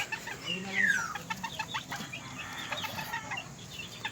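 Bantam chicken clucking close by in a coop with a laid egg, several short rhythmic clucks and squawks over about four seconds, with other birds faintly audible in the background.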